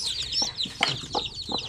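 Native chickens cluck in short, separate notes at close range, with a hen brooding nearby and fainter chatter from other birds and a brief flutter running underneath.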